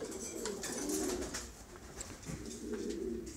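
Pigeons coo steadily in a loft where zureño pigeons are bred, a soft, continuous layered murmur of several birds with rising and falling swells, fairly quiet and with no talk.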